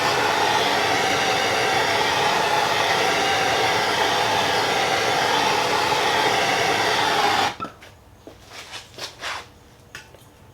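A heat gun blows a steady, loud hiss while warming a car's brake line, then cuts off abruptly near the end, leaving a few faint knocks and handling sounds.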